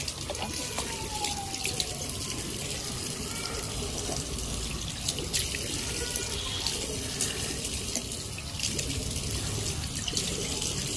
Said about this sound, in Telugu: సో ఫేస్ అయితే ఫస్ట్ కడుక్కుంటారు